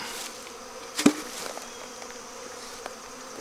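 Angry honey bees swarming around their hive during a beekeeping move, a constant, fairly faint buzz, with one bee zipping loudly past close by about a second in.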